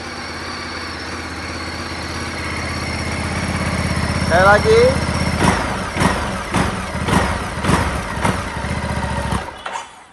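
A Ducati DesertX motorcycle engine idles close by with a deep, bassy rumble, then revs in several sharp bursts; a person speaks briefly over it.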